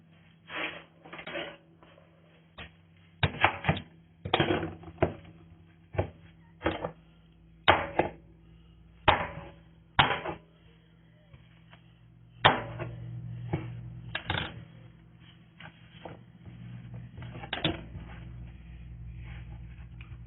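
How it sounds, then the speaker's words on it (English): Knife dicing a Vidalia sweet onion on a cutting board, with sharp irregular chops in short bursts and pauses, close and clear with no talking. "I dice it up real fine"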